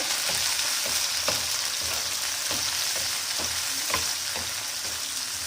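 Coriander, curry leaves and tomato sizzle loudly in hot oil for spicy dal kanda, a dense continuous frying hiss with repeated soft scrapes from stirring every second or so.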